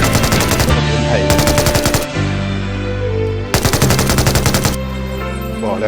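Machine gun fire in the PUBG video game, loud close bursts of rapid automatic shots in two long volleys separated by a pause, over a constant background rumble.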